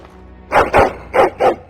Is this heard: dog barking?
yes